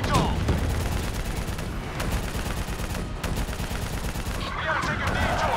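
Call of Duty Black Ops III single-player firefight: continuous rapid gunfire and distant explosions roll on throughout, a dense battle din with shouted voices in the background.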